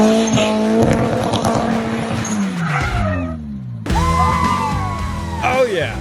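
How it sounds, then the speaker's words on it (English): A 1995 Nissan 240SX doing donuts at a wedding: loud engine revving and screeching tire squeal swell and sweep in pitch, drop out briefly near the middle, then return with a fresh burst of squealing and engine roar, with voices underneath. "That's his 1995 Nissan 240SX, ripping some mad wedding donuts."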